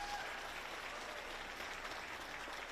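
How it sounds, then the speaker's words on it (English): Applause for youth award winners at a virtual career academy closing celebration, a faint, even wash of clapping that stays steady and distant for the whole stretch. "Let's give them a round of applause"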